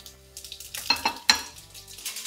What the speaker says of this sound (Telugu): ఇవన్నీ వేసి కాస్త వేయించుకోవాలి